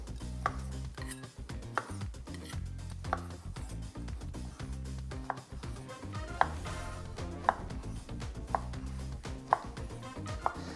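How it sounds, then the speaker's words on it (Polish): Knife chopping cleaned pork tenderloin into small pieces on a cutting board, with steady repeated cuts and sharper knocks every second or so, close and fairly loud over quiet background music. "Polędwica już jest oczyszczona, więc kładziemy ją po długości. Kroimy na takie kawałeczki."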